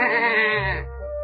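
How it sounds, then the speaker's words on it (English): A sheep bleats once in a field beside the flock: a loud, close, wavering cry that fades into a lower tail. "one sheep bleated to another in the field alongside"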